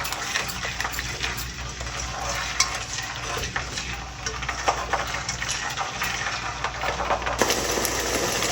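A mashed tomato mixture is stirred and sautéed in a pot while making aloo matar biryani, giving a steady, continuous sizzle with scraping stirs and faint utensil knocks throughout.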